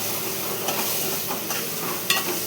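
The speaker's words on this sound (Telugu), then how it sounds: "తర్వాత కారం, ఉప్పు వేసుకొని బాగా కలపాలి." A spoon stirs chili powder and salt into tomato curry in a pan, a soft continuous sizzle with light scraping strokes and a sharper clink near the end, no voices.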